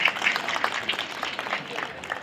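Brief applause from an audience at the closing ceremony of a bird festival, a soft, even patter of many hands clapping at moderate distance.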